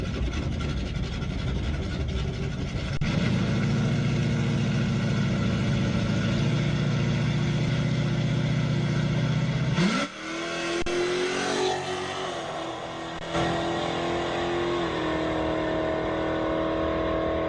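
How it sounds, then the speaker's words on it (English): Trans Am and new-school Camaro drag racing cars at a raceway rev loudly, a low steady engine drone building to a roar, then a sharp pitch change near the middle as they launch and pull away with rising, shifting engine tones. "278 Trans Am. New School Camaro down right lane."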